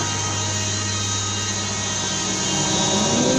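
A Fox F22-565 planer-jointer drones steadily at high volume, a constant mechanical whine with low hum, rising slightly toward the end; no talking.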